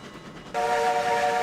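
A Ruby Basin steam locomotive in RailRoads Online runs with a steady rushing chuff, then a loud sustained multi-tone whistle joins in and holds to the end, with no talk.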